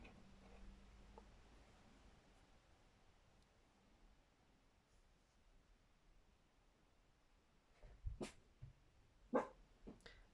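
A dog, being looked after, barks a few times faintly from a distance, short sharp yaps near the end over a quiet room hiss.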